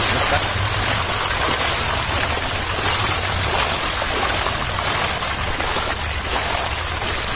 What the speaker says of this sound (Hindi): लंबा वाटरफॉल लग रहा है यार वाटर डैम लग रहा है